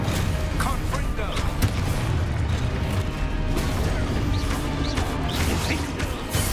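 Fiery spell blasts in the Hogwarts Legacy video game, a dense barrage of loud crashing explosions and impacts layered over continuous combat noise and game effects.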